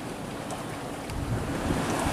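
A sailboat under a full genoa runs offshore at about 4 knots in roughly 15 knots of wind, with steady wind rush and waves hissing and slapping the hull, continuous and fairly loud with no talk.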